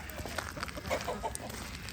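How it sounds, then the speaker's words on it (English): A small chicken clucks softly in quick, scattered notes outdoors after an ice storm, faint over a steady background hiss. "And this little chicken is Amber."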